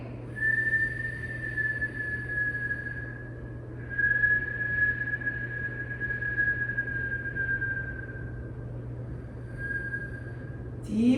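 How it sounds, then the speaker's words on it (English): Whistle breathing through puckered lips during Kundalini meditation gives a long thin airy whistle on each inhale and exhale, held for several seconds with short pauses, over a low steady hum. "begin a whistle breath. So we're inhaling through puckered lips, and we're exhaling through puckered lips."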